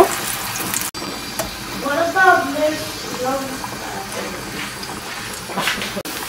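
Red kidney bean kababs fry in a pan with a steady, moderate sizzle, while a voice talks over the cooking for part of the time.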